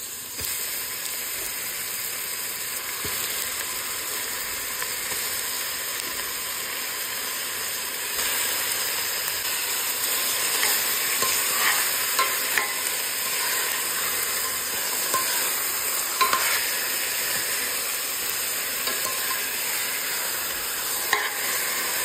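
Chicken frying in a pot with onions, a continuous close sizzle and hiss with occasional scraping stirs, growing slightly louder toward the end, no voices.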